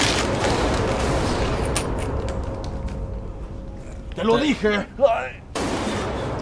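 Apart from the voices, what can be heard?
gunshots fired in an animated video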